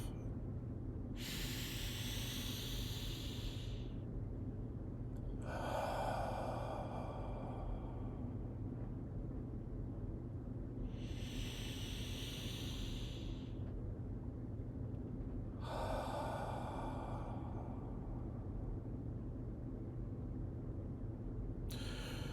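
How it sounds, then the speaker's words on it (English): Slow, deep breaths at the start of a light-day wellness workout, four long airy inhales and exhales spaced evenly apart, close and steady over a quiet background hum. "A couple deep breaths here to start us off."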